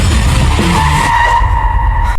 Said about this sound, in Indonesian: Annie mengerem tepat waktu dan tidak menabrak wanita hamil itu